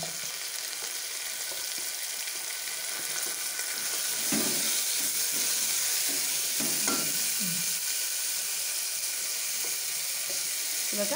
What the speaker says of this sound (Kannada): ಇದಕ್ಕೆ ಇವಾಗ ಈರುಳ್ಳಿಯನ್ನು ಹಾಕ್ಕೊಳ್ಳೋಣ.